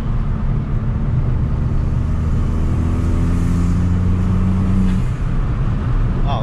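A Fiat 500t with a new ATM cold air intake and a lowered stance drives along, its engine a loud steady drone from inside the car that climbs in pitch as it accelerates.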